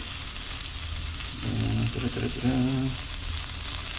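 Rice and onion frying in hot oil as Mexican rice is stirred, a steady close sizzle with a few louder crackling bursts from the pan midway.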